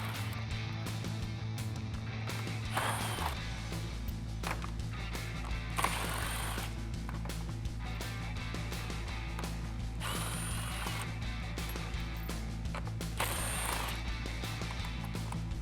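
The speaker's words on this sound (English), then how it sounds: "grab the 7mm socket again, remove all of the bolts straight across the front end" A 7mm socket ratchet clicks steadily in repeated bursts while it backs bolts out across the front end of a 2018-2019 Mustang, close and clear over a constant low hum.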